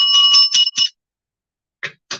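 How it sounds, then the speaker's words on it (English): A subscribe bell sound effect, a quick run of bright ringing dings with sustained tones, followed by silence and two softer short chimes, loud and close, with no voices. "Definitely subscribe and hit that, like that subscribe bell, like Richard says."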